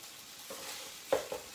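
Scallions fry in a pan for pineapple fried rice, giving a faint, low sizzle that is joined near the end by a few short stirring clinks and scrapes.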